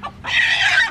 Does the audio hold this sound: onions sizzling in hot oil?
no